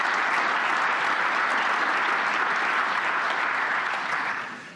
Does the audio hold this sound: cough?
no